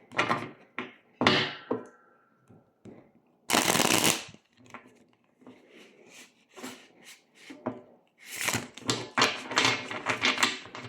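Close-up playing cards being shuffled in quick riffles and clattering bursts, the loudest near the start and end, with softer handling sounds between.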